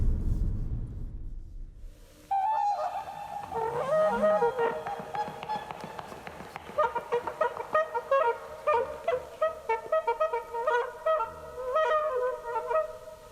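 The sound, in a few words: birds calling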